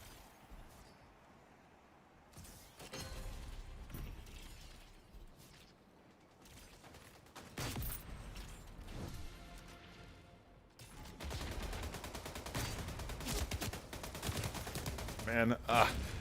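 Gunfire in a video game, including shotgun blasts: sharp bursts scattered among mechanical clicks and reloads, growing denser and louder toward the end over a quiet background.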